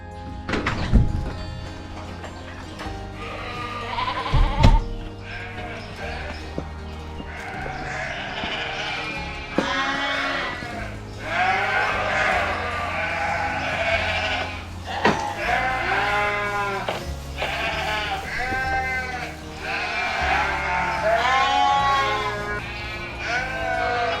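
Bottle-fed lambs bleat repeatedly on a farm, their high wavering cries close and overlapping, with occasional thumps in between.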